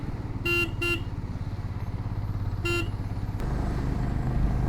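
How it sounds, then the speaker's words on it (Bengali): A vehicle horn on a mountain road bend between Rajouri and Srinagar gives two quick toots, then a third, over the steady rumble of an engine. "অনবরত তো ব্যাঙ্কের মোড়ে তো হর্ন বাজাতেই হবে"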